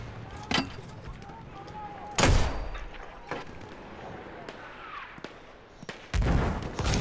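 Heavy gun reports in Battlefield 1, several loud sharp blasts spaced a few seconds apart, some close and booming, others fainter, amid background battle noise and players talking.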